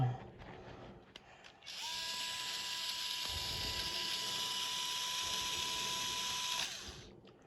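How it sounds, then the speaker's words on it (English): Screws are backed out of a Traxxas Nitro Rustler nitro engine with a power driver, heated beforehand to loosen them. The motor gives a steady, high-pitched whine for about five seconds, then spins down, with clicks and handling before and after. "So now we can take the screws all the way out."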